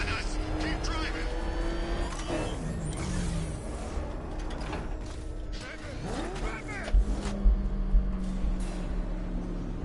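A car driving in Batman: Arkham Knight, its engine droning steadily underneath with mechanical creaks and a passing whoosh, while people talk over it.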